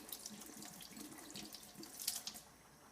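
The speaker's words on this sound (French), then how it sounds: "Et je vais rincer." Tap water runs steadily into a sink while a makeup brush is rinsed under it, a soft continuous splashing with a few brighter spatters, no voices.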